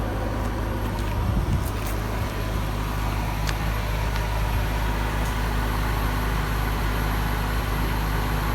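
A 2005 Porsche 911 Carrera S idles steadily after a coolant leak repair, a low continuous engine rumble holding close and even for several seconds with a brief faint knock near the start.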